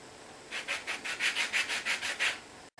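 A lemon is rubbed against a metal grater for zest, giving about nine rhythmic rasping strokes in a steady back-and-forth pattern, close and fairly quiet, with no talking.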